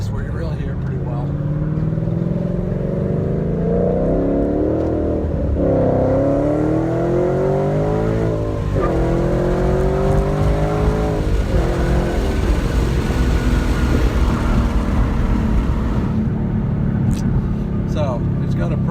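A 2013 Roush Stage 3 Mustang fitted with a Corsa X-pipe exhaust revs hard through a full pull. The engine note climbs in repeated sweeping rises and stays loud and steady across the whole stretch.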